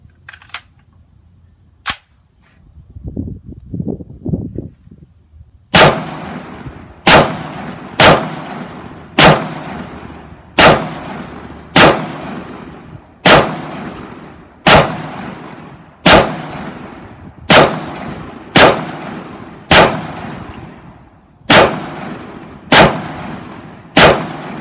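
Sig Rattler rifle firing supersonic rounds, about fifteen sharp, loud cracks at a steady pace of roughly one per second, each with a ringing decay, after a couple of quieter early shots and some brief clatter.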